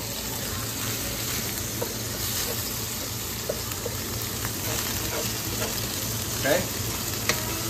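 Rice with garlic and oil fries in a pan with a continuous bright sizzle while it is stirred, and a few scraping clicks come through. A voice speaks briefly.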